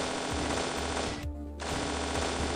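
Rapid machine gun fire from the mobile shooter Tap Tap Gun, a dense continuous rattle that drops out briefly in the middle and then resumes just as loud.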